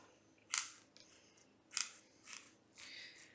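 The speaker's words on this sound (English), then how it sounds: "If it's really jaggedy, you can trim it off" Scissors trim jagged wreath material in a quiet room, giving several crisp, separate snips spaced irregularly and heard up close with no talking.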